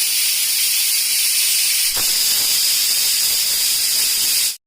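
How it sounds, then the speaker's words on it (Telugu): A pressure cooker hisses while cooking mutton curry, a loud steady jet of whistling steam that holds for over four seconds before cutting off abruptly. "దానిపైన కుక్కర్ మూత పెట్టుకొని 10 నుంచి 15 విజిల్స్ రానివ్వాలి"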